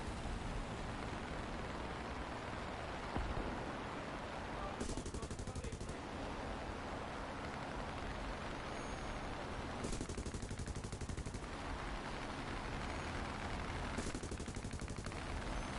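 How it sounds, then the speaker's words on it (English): Sustained automatic gunfire from guns in a video game, a dense continuous roar of rapid shots with brief bursts of heavier fire at intervals, loud and steady throughout. "I can't see where my rounds are landing"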